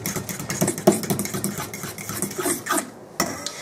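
Banana bread batter being stirred in a bowl, with repeated wet scraping and knocking of a utensil against the sides in an uneven rhythm, close and moderately loud, with no voices.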